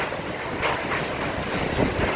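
Strong typhoon wind from Super Typhoon Noru roars and gusts through Danang, Vietnam, a broad steady rush with surging bursts close to the microphone and no voices.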